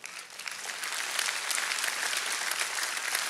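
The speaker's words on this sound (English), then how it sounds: "Someone, you can clap your hands." A church congregation claps hands together in a steady, dense burst of applause, filling the room for a few seconds with no talk over it.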